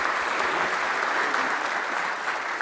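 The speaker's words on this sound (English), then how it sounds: "So please give a round of applause to Mark Chafe back there." An audience at a Christmas service applauds, dense and even clapping filling the room at a steady level for a couple of seconds without a break.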